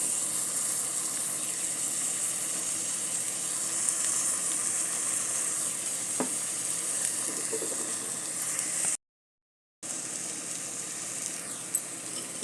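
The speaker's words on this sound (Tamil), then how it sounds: "வெங்காயம் நல்லா வதங்கிடுச்சு. கொஞ்சம் சால்ட்டும் கொஞ்சம் பெப்பர் பவுடரும் போட்டுக்கலாம்." Onions sautéing in a pan with salt and pepper for an egg stew, giving a steady, soft sizzle and hiss that runs close and continuous, briefly cut out, with no talk.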